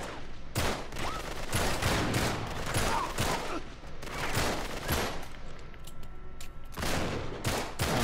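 Gunfire in the video game Uncharted 3: Drake's Deception, a dense, continuous fusillade of shots and bursts, loud and sustained throughout with brief gaps between volleys.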